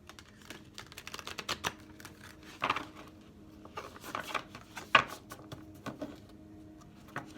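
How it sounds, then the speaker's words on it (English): Soft, irregular clicking and riffling of a deck of stiff tarot-style cards being shuffled close by, with a few sharper snaps standing out among the quieter flutters. "Give it another shuffle"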